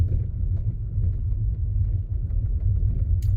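Car on a narrow one-lane highway bridge, a steady low road rumble with engine drone filling the whole stretch, close and fairly loud, with no talk.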